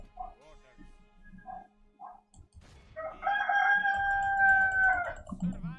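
A neighbour's roosters crowing outdoors: a couple of faint clucks first, then one long, loud cock-a-doodle-doo, with a voice talking softly near the start and another coming in at the end.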